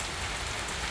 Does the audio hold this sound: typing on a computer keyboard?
no